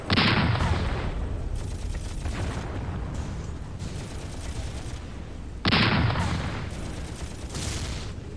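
Gunfire in the WWII Eastern Front game Graviteam Tactics, with a Marder tank destroyer firing at a tank: heavy battle noise, two loud sharp cannon blasts several seconds apart, each with a long rumbling tail.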